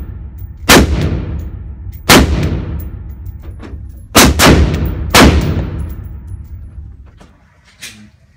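AR rifle fired outdoors, five loud sharp gunshots at irregular intervals, two in quick succession, each booming close and trailing off in a long echoing decay.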